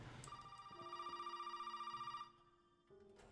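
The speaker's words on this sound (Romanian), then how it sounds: "Sună telefon, dracu" A telephone rings inside a horror video game, a steady electronic trill pulsing rapidly for about two seconds with bright sustained tones, then cutting off and leaving a quieter tonal hum; no talking over it.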